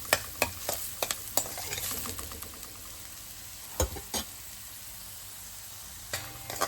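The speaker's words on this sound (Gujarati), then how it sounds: "થોડી વાર ઓનિયનને આપણે ચડવા દઈશું" Onions sauté in a pan with salt, giving a soft sizzle. Sharp scrapes and taps of a spoon stirring against the pan punctuate it irregularly, and it stays faint and close.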